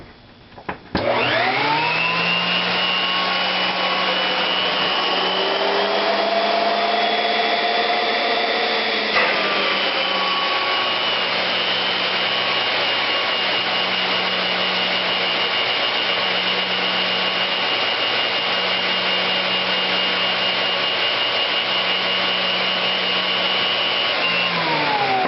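A Filtex commercial central vacuum unit with a series motor starts up with a quick rising whine. It settles into a loud, steady roaring drone, with a slight shift in tone partway through, running alone for over twenty seconds.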